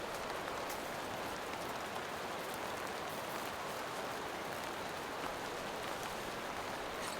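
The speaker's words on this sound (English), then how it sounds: "the rain has picked up" Heavy rain pours onto a tent and tarp during winter camping, a dense, even hiss of countless drops drumming close by with no pauses.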